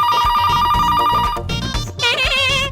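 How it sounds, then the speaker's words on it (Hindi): A telephone rings on unanswered, its loud electronic ringtone warbling in repeated bursts that fill the room with no voice answering. "फोन क्यों नहीं उठाता कोई?"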